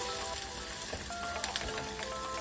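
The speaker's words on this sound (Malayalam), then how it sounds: "ഈ എണ്ണക്കകത്ത് ഇടണം." Shallots, ginger, green chillies and curry leaves fry in hot oil for fish mulakittathu, giving a steady, even sizzle with soft crackles. No one speaks.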